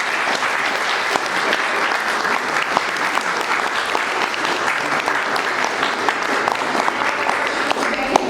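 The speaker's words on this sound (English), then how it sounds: "Well done, another big round of applause." Audience at an event on South Australian gay law reform gives a big, sustained round of applause, dense steady clapping filling the room throughout.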